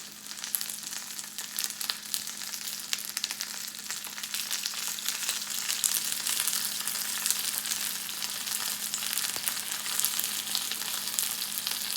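Aldi Korean beef udon noodles frying in a pan with oil or bacon grease, a steady, close broadband sizzle that holds evenly throughout without talk.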